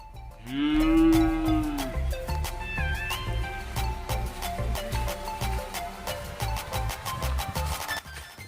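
Cows moo loudly and close by after grazing, one long low call followed by more lowing over a busy rural background of clanks and knocks.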